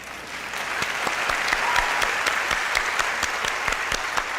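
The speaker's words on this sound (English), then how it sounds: "I'm clapping for my wife." Steady applause from an audience at a stage event, dense overlapping claps sustained at even loudness throughout with no talk over it.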